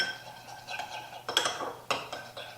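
Ingredients for cornbread being mixed in a bowl with a utensil, producing soft scraping and a few sharper clinks against the bowl, close and moderately quiet.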